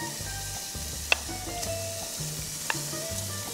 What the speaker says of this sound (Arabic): هحتاج أشوح اللحم، إما أستعمل زيت ذرة أو إذا بتحبوا سمن